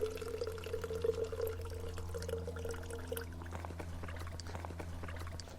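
Water filtered through a Katadyn BeFree trickles and pours into a cycling bottle, a steady close-up splashing flow over a low constant hum.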